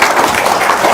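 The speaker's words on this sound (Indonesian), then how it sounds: "tepuk tangan dong" Brief burst of steady clapping from an audience at an evening Islamic talk, dense and continuous for a second.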